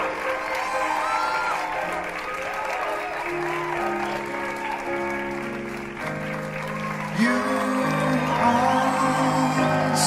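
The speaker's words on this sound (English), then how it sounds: "Have a big round of applause for the 2020 Mrs. World" Steady applause and cheering from the audience at the Mrs. World 2020 pageant crowning, filling the whole stretch, while an announcer's voice talks over it and the clapping swells near the end.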